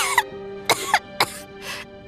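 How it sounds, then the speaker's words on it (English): A character in the Genshin Impact video game, during the Snezhnaya story quest, coughs in four short harsh bursts spaced across the moment, close and clear over a faint steady game-music background. "How long have you had that cough, Tonya?"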